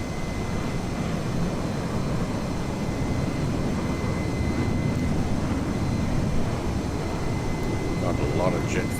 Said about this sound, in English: Got a lot of jet fighter sound going on. That might actually be the F-15 that's making that close proximity noise.